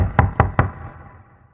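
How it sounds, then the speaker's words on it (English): Three sharp, evenly spaced knocks on a door sound close and loud, followed by fading quiet. "Then one night, the knock came once again."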